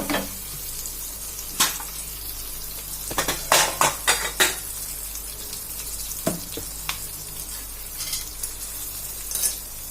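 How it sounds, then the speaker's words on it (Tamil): Mustard seeds spluttering in hot oil with asafoetida while tempering for banana flower chutney, a low sizzle broken by sharp irregular pops and crackles, several in quick clusters, close up with no talk. "கடுகெல்லாம் பொரியட்டும்."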